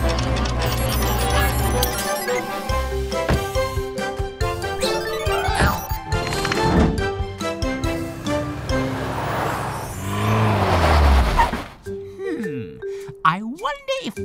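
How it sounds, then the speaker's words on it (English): A cartoon tow truck drives off under a bright, busy musical score, its motor and horn-like effects blending into the music before fading near the end. "Go, go, Tilly Tow Truck"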